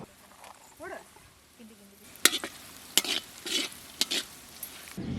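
Cashew nuts frying in ghee in a pan for a sweet somas filling, giving short bursts of sizzling and crackling with stirring scrapes, fairly close and moderately loud after a quieter start.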